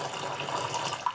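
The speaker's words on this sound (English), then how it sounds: "So now I'm going to switch this pump on," A small water pump runs, pushing a steady, close stream of water through tubing into a container of water, with a continuous splashing rush and no talking.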